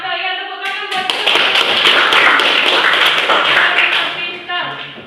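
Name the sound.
classroom applause for a student's answer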